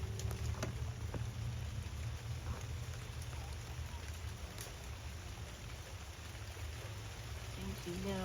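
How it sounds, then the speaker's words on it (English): Rain falls steadily outdoors, a dense even patter on surfaces with a broad hiss that holds throughout, fairly close and unbroken. "The rain doesn't bother you?"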